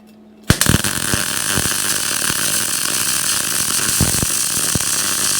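A power tool whines into life after a short silence and grinds steadily through metal on a Royal Enfield motorcycle project, loud and close, with a few small bumps and changes in the cut.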